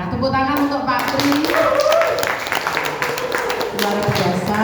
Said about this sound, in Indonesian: Tepuk tangan untuk Pak Tri